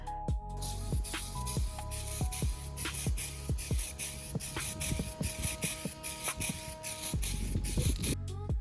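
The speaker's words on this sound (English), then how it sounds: "they actually can put it into a spray can bottle like this" An aerosol spray can hisses in bursts, spraying paint onto a Honda Civic valve cover, with soft clicks and tapping underneath, steady and close.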